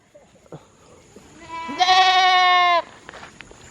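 A goat lets out one loud, drawn-out bleat close by, with a few soft knocks and rustles before and after.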